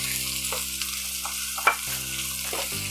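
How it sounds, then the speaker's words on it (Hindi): Vegetables and frozen peas stir-fried on a tawa for pulao, a steady broadband sizzle with several scraping stirs of a spatula against the pan and one sharper clank, continuous and close with no talking. "इसको मिक्स करेंगे अच्छे से, 2-3 मिनट के लिए ऐसे ही इसको फ्राई करेंगे।"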